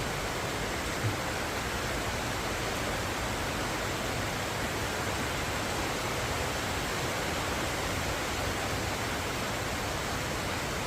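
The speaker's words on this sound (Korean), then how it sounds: "비가 와도 와도 진짜 이렇게 많이 오는 쪽은 진짜 처음인 것 같아요, 처음" Heavy rain pouring down on a flooding greenhouse, a dense, steady, loud hiss that holds unchanged throughout with no voices.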